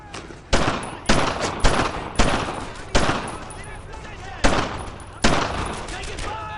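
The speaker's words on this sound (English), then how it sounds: "Taking fire!" Gunfire in Brothers in Arms, a WWII video game about US paratroopers in the D-Day drops: a string of loud, close rifle and machine-gun shots in uneven bursts, with a few longer gaps between them.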